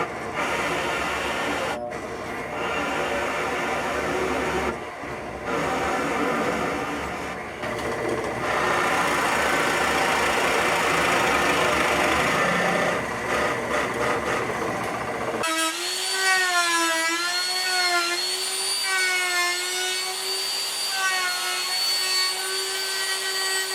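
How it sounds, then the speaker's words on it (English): A drill bores holes through a cherry and walnut butcher block guitar body, a steady whining drone running for long stretches, then shifting to a higher, wavering pitch near the end. "drilled some holes so I can also use some screws there."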